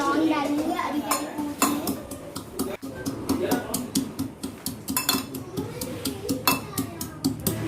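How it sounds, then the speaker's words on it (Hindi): Cloves are dropped into a pot while a little girl makes tea, bringing a busy run of metallic clinks and taps from spoon and cookware, with a voice speaking over it. "तो अब हम इसमें थोड़ा सा लौंग डालेंगे"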